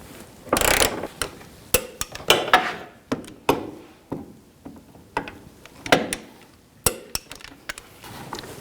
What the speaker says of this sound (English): Now we can torque these bolts to 54 foot-pounds.